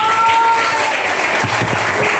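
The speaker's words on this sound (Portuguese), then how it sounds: "as palmas se engrandecem em nome do Senhor Jesus" A church congregation applauding together, a close, loud and steady wash of clapping that fills the short stretch, with a few low thuds and murmured voices near the end.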